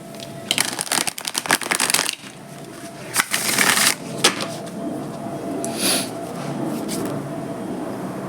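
A deck of playing cards shuffled close up in several quick riffling bursts with brief pauses between them, no talking.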